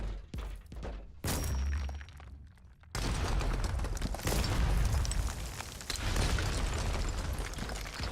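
A shotgun loaded with man-stopper rounds fires in Warhammer 40K: Inquisitor - Martyr, heavy booming blasts landing in quick succession, loud and close, with rumbling impacts.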